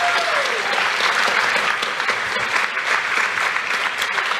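An audience at a youth achievement awards ceremony applauds the organizing committee with steady, dense clapping that holds at an even level throughout, with no voices rising above it.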